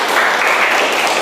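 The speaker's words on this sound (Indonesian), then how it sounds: "kita berikan aplaus untuk Nirmala" Steady, dense applause from a classroom audience for a student named Nirmala, loud and close, filling the whole moment without speech.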